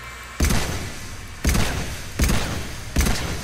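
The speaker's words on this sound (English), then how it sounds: "The Carnifex hand cannon." The Carnifex hand cannon fires in Mass Effect 3, with four heavy, booming shots spaced roughly a second apart, each punchy blast trailing into a short, noisy echo.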